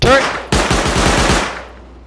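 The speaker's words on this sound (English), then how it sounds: "Turret!" An automated turret firing in the survival game Rust: a shout, then a loud, close burst of about eight rapid shots that fades out within a second.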